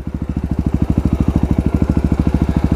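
A Husqvarna 701 Supermoto single-cylinder engine idles close by, a loud, even chain of rapid thumping pulses that holds steady throughout with no voices.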